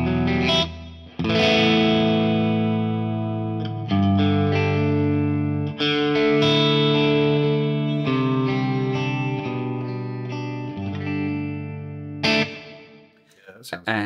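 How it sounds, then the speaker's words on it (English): Sustained electric guitar chords ring out with distortion and a wash of reverb, notes changing every second or two and tails lingering into space. "Well, let's stick a bit of reverb on."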